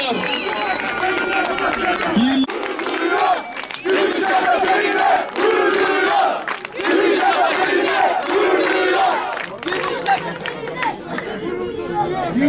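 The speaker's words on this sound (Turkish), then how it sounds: "Şu meydan bir gür bir ses versin ya" A large crowd at an outdoor public square rally roars with loud, sustained shouting and cheering in several long waves with brief dips between them, close and dense.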